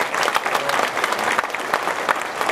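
An audience applauds at an Evergreens concert in the main pump room at Krynica, producing dense, continuous clapping with a few sharper, louder claps standing out, and no speech over it.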